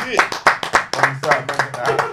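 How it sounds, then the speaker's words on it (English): A small group claps for a returning podcast guest, a brief burst of uneven claps close by, mixed with people talking over it. "round of applause for the hat trick visit"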